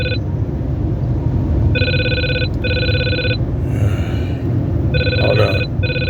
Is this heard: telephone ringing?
yes